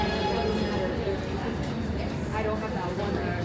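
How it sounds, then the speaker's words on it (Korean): A New York subway train rumbles steadily with a low rolling roar and metallic rattle throughout, close and continuous, while a voice speaks over it. "지하철 한 정거장이긴 한데 찾아서 타서 일단 집으로 가도록 하겠습니다."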